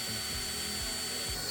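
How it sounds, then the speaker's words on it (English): A power drill bores through a metal deck bracket on a skoolie roof deck build, a whining, grinding tool sound with short pitch sweeps as the motor loads and eases, steady and fairly faint. "we had to actually drill through the bracket"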